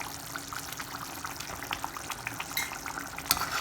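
Turmeric curry simmering in a pot on the stove, giving off a steady, low bubbling hiss that stays soft and even throughout, with no voices.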